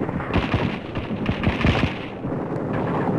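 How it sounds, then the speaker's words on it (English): Battle on Hill 92 in 1945, with machine guns covering a tank on a steep escarpment under sniper fire: dense, continuous gunfire with rapid cracks and dull thuds over a constant rumbling roar. "Covered by machine guns, a tank moves up the steep slope of the lower escarpment under continuous sniper fire"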